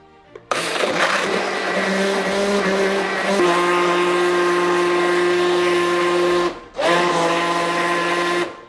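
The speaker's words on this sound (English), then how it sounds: "Lid. A little bit of a drip. Blender. Locked and loaded on 3, 2, 1." A Homgeek mini blender with steel blades whirs loudly and steadily for several seconds, briefly cuts out, then starts again with the same high motor whine.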